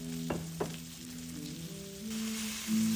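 Sesame orange chicken sears in a hot pan with a steady sizzle, two sharp clicks near the start and a low hum underneath, and the frying swells louder toward the end.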